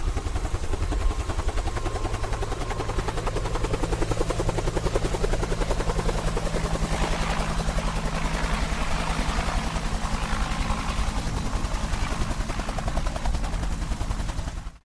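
Helicopter in flight on a sightseeing loop over a park, a loud, continuous rotor chop and engine roar that fills the whole stretch without letup.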